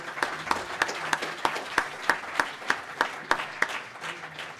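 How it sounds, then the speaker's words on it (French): An audience applauds the speakers at the close of a round-table discussion, with steady clapping and a regular pattern of sharper claps cutting through, moderately loud, with no talking. "Je pense qu'on peut applaudir les intervenants."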